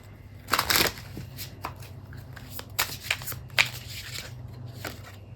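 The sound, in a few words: tarot cards being shuffled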